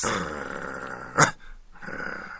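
A person imitates a lion's growl, one short rough burst rising over a steady low background murmur, then dropping to near quiet before the murmur returns.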